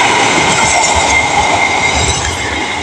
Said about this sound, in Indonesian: Kereta api Argo Semeru